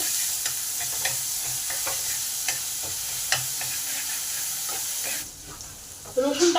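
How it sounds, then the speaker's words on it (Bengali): Garlic paste frying in hot oil with broken dried chili and black cumin, a loud steady sizzle with occasional spatula taps, dropping away briefly before a burst of clatter near the end. "এবারে হাফ চামচ রসুন বাটা দিলাম এটাকে একটু ভালো করে ভেজে নেব"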